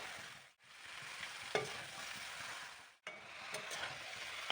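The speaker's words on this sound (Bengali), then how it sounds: "একের পর এক এরকমভাবে বাঁধাকপি দিয়ে মশলার সাথে মেশাতে থাকবো" Shredded cabbage being stirred with spices in a hot pan: a continuous sizzle with a soft scrape and clink of the spatula now and then, broken by two short silent cuts.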